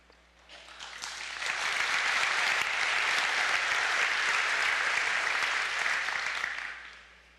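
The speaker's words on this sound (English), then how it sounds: "I should have some friends out here that might clap now." A small audience at a talk claps steadily for several seconds, the sound swelling in, holding dense and even, then tapering off at the end with no voices over it.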